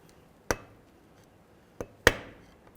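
Freeing the front driveshaft flange on a 2005-10 Jeep Grand Cherokee, with three sharp metallic knocks, one early and two close together near the end, crisp and close against a quiet garage.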